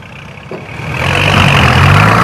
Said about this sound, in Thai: รถไถดันครับ